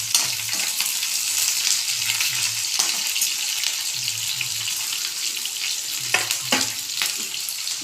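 Ginger frying in a pan for coriander chutney makes a steady, even hiss, with a few scattered clicks and taps of a utensil against the pan.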